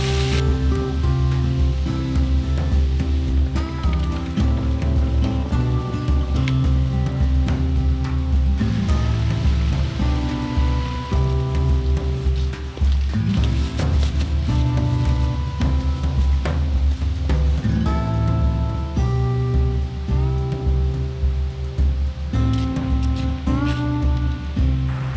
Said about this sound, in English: already made it to a beautiful waterfall